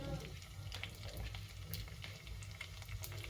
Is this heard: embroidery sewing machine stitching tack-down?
no